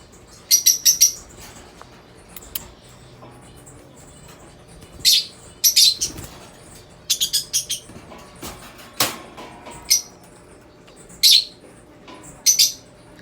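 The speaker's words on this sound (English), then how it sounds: "This is my friend's bird. And this is my bird." A pet bird chirps in short, bright bursts, close and loud, coming in scattered clusters separated by quiet pauses.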